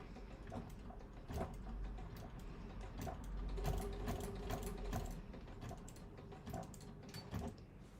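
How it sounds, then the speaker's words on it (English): A sewing machine stitches in reverse on an outer fabric piece, a fast steady mechanical chatter of needle strokes with ratcheting clicks, close and continuous throughout. "I'm going to twist it round and reverse my stitch"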